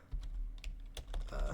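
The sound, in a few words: typing on a computer keyboard in Google Docs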